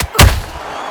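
A boxing counter punch lands as one sharp, heavy thud in a women's professional bout, followed by a short decay under the arena noise.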